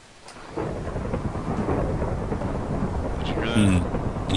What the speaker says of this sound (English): You can actually get hit by lightning.